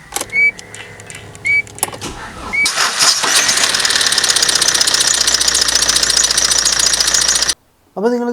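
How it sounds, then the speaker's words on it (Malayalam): A Tata Grande diesel car cranks briefly after a couple of short clicks, then catches and settles into a loud, steady clattering idle before cutting off abruptly. "അപ്പോൾ നിങ്ങൾ കണ്ട പോലെ കാർ സ്റ്റാർട്ടായിട്ടുണ്ട്."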